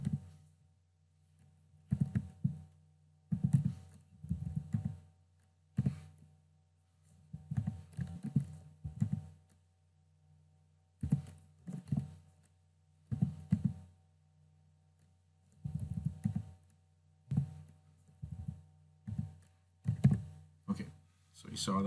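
Someone types on a computer keyboard nearby in irregular bursts of soft clicks and taps, with short pauses between strings of keystrokes.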